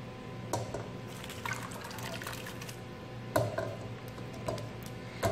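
Watery red onion jam being poured into a pan, a soft liquid trickle and splashing with a few faint ticks and knocks against the pan, quiet and close with no talking.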